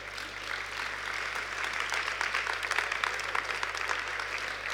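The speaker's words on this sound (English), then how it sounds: "I think this is applause for them." Steady audience applause at a conference on SDG partnerships and business transformation, a dense, even patter of many hands held at moderate loudness for about five seconds with no voices over it.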